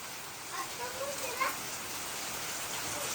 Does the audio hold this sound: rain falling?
yes